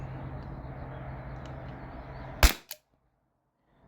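A T4E P2P HDP50 Gen2 13-joule pistol fires once, a sharp close crack followed by a short smaller snap, breaking a quiet low hum that cuts out after the shot.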